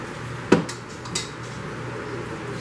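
A spoon stirs pesto into a pot, giving one sharp metallic clink followed by a lighter tap over a steady low background hum.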